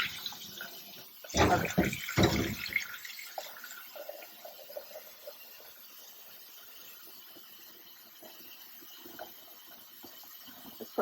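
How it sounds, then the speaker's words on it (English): Water pours briefly into a bowl for rinsing a dyed hankie, a short loud splashing burst followed by faint drips, trickles and quiet handling, with one brief spoken word. "you can put some water in the bowl and then not have to use as much water"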